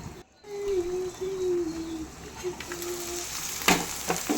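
Potatoes and dried red chillies are stirred in a frying pan, giving a soft, continuous sizzle with a faint steady tone. A sharper scrape of the spatula comes near the end.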